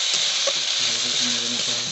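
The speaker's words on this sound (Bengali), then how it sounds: "ভালো করে নেড়ে নিতে হবে" Snail curry fries in a pan, a dense continuous sizzle with a spatula scraping through it and a few short stirring strokes close by, with no talking.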